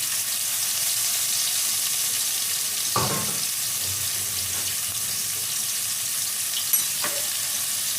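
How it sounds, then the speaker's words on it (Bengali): Chicken coated in egg batter fries in hot oil with a steady, bright hiss and sizzle, broken by a few brief clatters of a utensil in the pan. "একটু ভালো করে ভেজে নেবো চিকেনটাকে তেলের সাথে"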